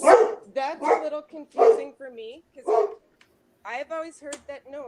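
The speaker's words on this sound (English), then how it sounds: "I'm sorry about my dogs" Dogs bark in the background, partly buried under a person talking over them throughout.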